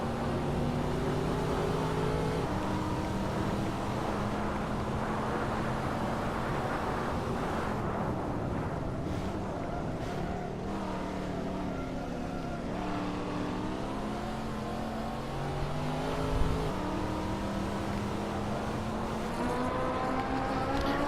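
Race cars in a Hot Wheels video game race roar continuously, engines droning and shifting pitch as several cars rev and pass, loud and sustained throughout with no talking.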